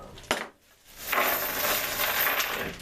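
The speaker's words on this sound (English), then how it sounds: "I'm going to go grab some of these old old washers that came off the corners" Old metal washers taken off the corners of a radiator are handled, with a sharp metallic clink followed by jingling and rattling as they shift and clatter together up close.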